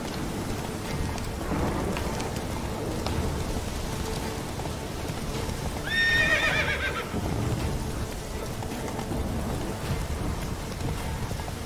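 In The Witcher 3 game, a horse gives a clear whinny midway through steady rainfall, with soft hoof clops and rain hiss continuing around it and no talk.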